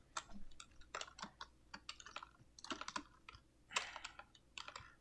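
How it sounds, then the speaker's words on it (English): Typing on a computer keyboard while playing Minecraft, with quick irregular clusters of close key clicks and short pauses between bursts, quiet and alone without speech. "And we're gonna type a message."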